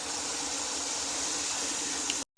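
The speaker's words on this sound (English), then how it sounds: "I will also put some water in the wash bucket here" Hot water pours steadily into a wash bucket being filled with a couple of gallons for a rinseless wash, a loud, continuous gushing splash that stops abruptly at the end.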